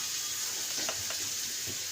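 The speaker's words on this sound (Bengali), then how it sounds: "এটা ভালো করে কষবো আবার" Spice paste with turmeric and salt fries in a pan for a tengra fish curry with green tomato, a steady close sizzle with a few soft stirring scrapes.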